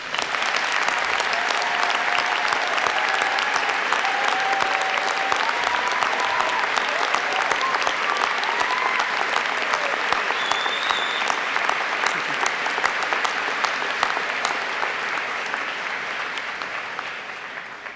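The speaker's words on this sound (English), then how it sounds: "Please join me in another round of applause for all of our graduates." Sustained applause from a large audience honoring university graduates at a spring convocation ceremony in Winnipeg, steady and dense for the whole stretch before slowly tapering near the end.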